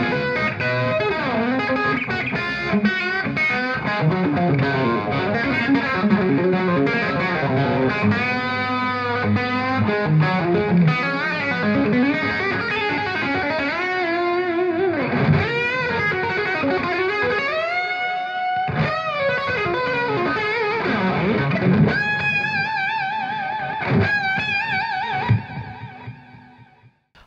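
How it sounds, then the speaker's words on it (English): Electric guitar played through the blue channel of a Bogner Ecstasy amp module in a rack rig, heard alone as a long, loud, overdriven passage of chords and lead lines with effects, fading out at the end. "that sound you just heard was the blue channel from the Bogner Ecstasy module in the Sine 2."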